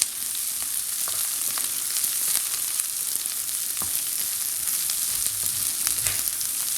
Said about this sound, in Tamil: வெந்தயத்தை போட்டு ஒரு ஒன் மினிட்ஸு விட குறைய நேரம் இப்படியே நீங்கள் மிக்ஸ் பண்ணுங்கள்